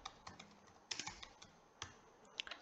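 Typing on a computer keyboard, quick light clicks in short irregular bursts, close and clear with no talking over them.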